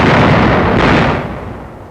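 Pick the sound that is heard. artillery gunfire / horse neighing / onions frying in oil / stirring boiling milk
artillery gunfire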